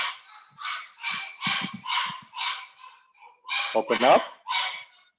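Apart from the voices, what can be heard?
puppy barking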